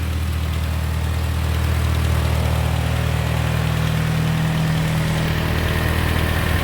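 A Ford GPW jeep engine idles close by with a steady, low, throbbing hum that stays even and continuous throughout.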